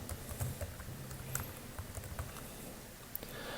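Fast, light tapping on a computer keyboard as a project name is entered, a quiet patter of irregular keystrokes close by, no talk.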